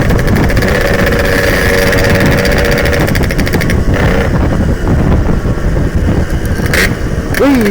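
A Yamaha RX-King motorcycle engine roars loudly and close, holding a rough, buzzing rev with rising and falling pitch and a brief sharp flare near the end, with no clear talk over it.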